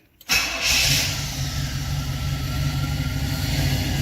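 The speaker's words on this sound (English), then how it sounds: "Pix, why don't we start it up and we'll just watch it and we'll get the calibration set." A 1966 Pontiac Catalina wagon engine cranks and catches abruptly, then settles into a loud, close, steady idle with a rough low rumble and no talk.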